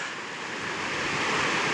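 A small, fairly clean mountain river tributary in the Colombian mountains rushes steadily, a continuous broadband wash of water that stays close and even, with some wind over it.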